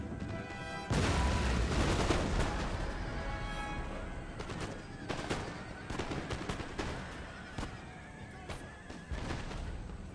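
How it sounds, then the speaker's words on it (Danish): Musket volleys from line infantry in the video game Empire: Total War, with a sharp loud crack of fire followed by scattered shots and horse whinnies over a dense battlefield din. "Så er det første salver sendt afsted."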